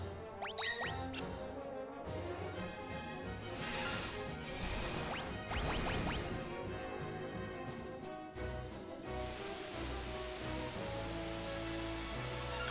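Acid rain in Final Fantasy VI Pixel Remastered, a loud continuous wash of rain-like noise mixed with game music and a few sharp hits, without any speech.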